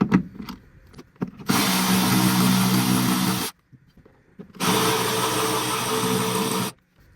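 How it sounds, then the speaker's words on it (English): Seat delete brackets being fastened with a T50 Torx bit in the rear of a BMW G82 M4 Competition: two loud, sustained power-tool bursts of about two seconds each, separated by a short quiet gap with faint handling noises. "install the provided brackets into these locations here using a T50 Torx bit"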